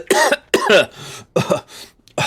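A person imitates a character coughing, giving a few hoarse, throaty coughs and splutters in quick bursts, close and loud.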